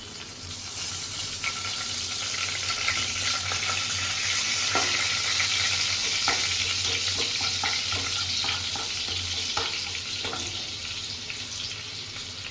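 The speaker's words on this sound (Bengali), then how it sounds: "এবার ওই কড়াইতে আমি একটু বাটারটা দিয়ে দিচ্ছি।" Butter and ground spices sizzle in a kadai over a low gas flame where meat was fried, a loud, steady hiss with scattered pops and crackles, no voices.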